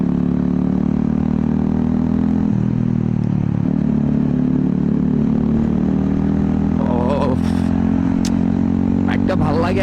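A GPX Demon motorcycle being ridden, its engine droning steadily and close throughout with a few brief clattering bursts near the end, while a voice talks over the engine noise.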